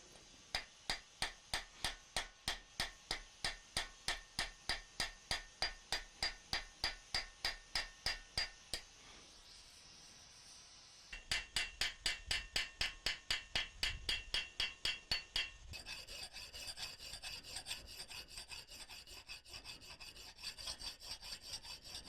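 A blacksmith hammers over the hot tenons of a forged iron staple for a gate latch, a rapid run of sharp, evenly spaced metallic blows, pausing briefly before more bursts of ringing strikes.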